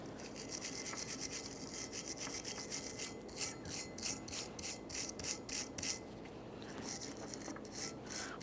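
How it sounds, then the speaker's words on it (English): A wire brush scrubs the caliper bracket on a 2014-2018 Mazda 3 during a front brake job, giving a steady close raspy scratching in quick repeated strokes that quicken into bursts partway through, with no talking. "continue on with a wire brush and clean the areas where our caliper bracket tins will sit"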